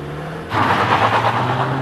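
Mazda CX-30 GT Turbo (2023) surging forward under hard acceleration, a steady broadband rush of engine and road noise building abruptly after a quiet half second and holding loud to the end.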